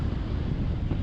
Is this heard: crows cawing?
no